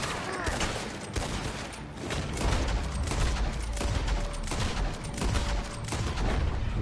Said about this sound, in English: Shoot him in the foot, and then Sasquatch can get up close and per